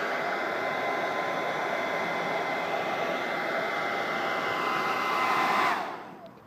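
Steady, close whoosh of a hairdryer blowing hot air onto a car badge to soften its adhesive, running continuously for several seconds before cutting off abruptly near the end.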